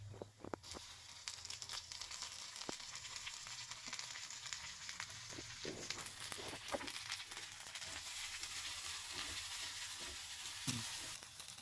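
Okra fries in hot oil in a pan, giving a soft, even sizzle with scattered crackles and light stirring noises throughout, fairly quiet.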